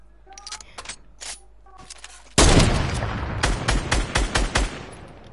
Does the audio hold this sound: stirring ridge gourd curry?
no